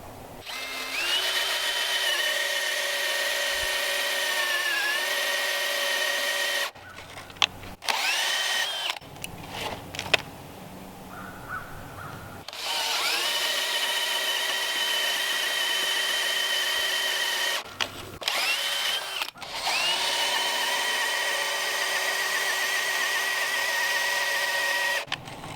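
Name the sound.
power drill boring into timber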